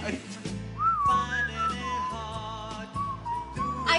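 Someone whistles a short, wavering melody, the tune sliding up and down over a steady background of music.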